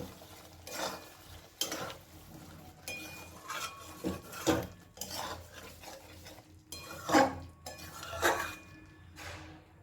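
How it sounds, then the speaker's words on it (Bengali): A spoon stirs dum aloo with kasuri methi in a pan, with repeated scraping and clinking strokes against the metal and a soft sizzle beneath, close and irregular. "ভালো করে আরেকটু মিশিয়ে নেব"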